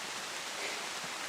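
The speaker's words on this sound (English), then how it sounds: "And right at that moment, rain. Just shower, just a tiny little sprinkle." Light rain sprinkle beginning on a humid, still day along the Appalachian Trail, heard as a steady soft hiss of drops with no distinct individual patters, fairly faint and even throughout.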